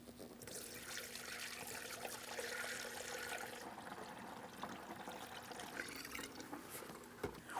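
Coolant poured through a funnel into the reservoir of a 2007-2014 Ford Edge 3.5L, a faint, steady trickling flow of liquid that runs throughout, quiet and close, with a small knock near the end.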